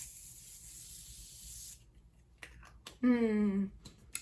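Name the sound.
continuous setting mist spray being sprayed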